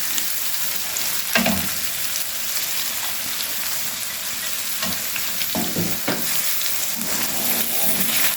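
Keema with green onions sizzling and frying in oil over low flame, a steady close crackle with a few louder stirring scrapes scattered through.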